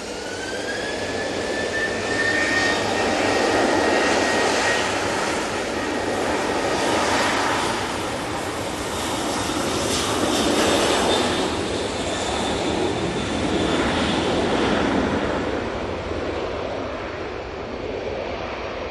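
A Qatar Airways airliner taxiing at Manchester Airport, its jet engines giving a steady, fairly loud roar with a rising whine that swells and eases throughout, no voices.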